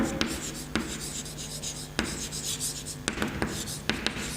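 Chalk or marker strokes rasp across a classroom board while a teacher writes the iron mineral names hematite, magnetite and siderite, in short scratchy bursts with sharp taps at the start of each word, over a low steady hum.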